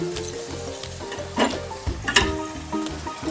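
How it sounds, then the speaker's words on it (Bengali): Ginger-garlic and green chili paste fries in a pan with a close, steady sizzle, broken by a few scraping stirs and clinks of a utensil, and no voices. "আদা রসুনের পেস্ট আর এখানে কাঁচা লঙ্কা বাটা আমি দিয়ে দিচ্ছি 1 চামচ"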